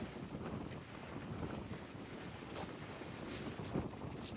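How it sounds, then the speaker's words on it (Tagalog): Strong wind roars and buffets the microphone in a steady, rumbling rush with occasional louder gusts, no voices. "Ang lakas ng hangin, grabe."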